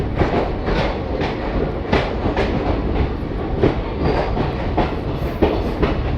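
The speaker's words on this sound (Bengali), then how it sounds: "কিছুক্ষণ দাঁড়ানোর পর মোকামা থেকেও ট্রেন ছেড়ে দিয়েছে।" Patna–Puri special express train pulling out of Mokama station, rolling loudly and close with rhythmic wheel clatter at regular intervals over a continuous rumble, no voices.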